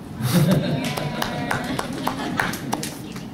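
An audience claps for a woman being introduced, a scattered burst of hand claps that rises under ongoing talk and some laughter, loud and close.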